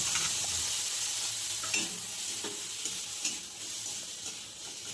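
Soaked raw chickpeas frying with chopped onion and tomato for a soybean and potato curry, a quiet continuous sizzle broken by a few light stirring scrapes and taps, no voices.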